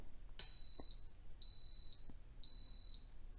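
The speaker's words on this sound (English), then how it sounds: "So I'm just going to push manual, and I'm just going to push it for 1 minute" An Instant Pot electric pressure cooker gives three short, high electronic beeps as its buttons are pressed, evenly spaced and fairly quiet against faint background noise.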